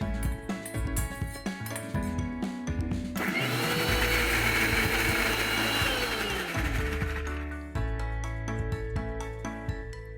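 A mixer grinder purees a cooled roasted spice mixture into fine paste for creamy malai chicken gravy, a loud whirring motor running for several seconds between quieter clinks and handling noises in a kitchen.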